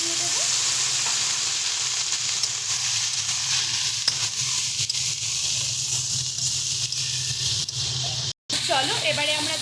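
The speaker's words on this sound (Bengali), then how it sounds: "এবার সামান্য পরিমাণে একটু জল দিয়ে আমরা ভালো করে কিন্তু সবজিটাকে কষিয়ে নিচ্ছি।" Mixed vegetables with prawns stir-fry after a splash of water, giving a loud, steady, close sizzle with stirring scrapes and a brief dropout near the end.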